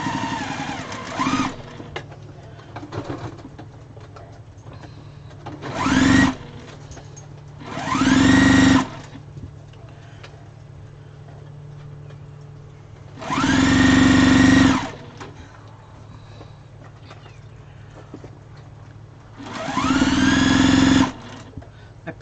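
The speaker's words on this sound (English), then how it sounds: "Let's just sew a whole bunch of these on." A domestic sewing machine stitches fabric scrap strips together in four or five separate whirring bursts of a few seconds each, close and loud, with quiet pauses between runs.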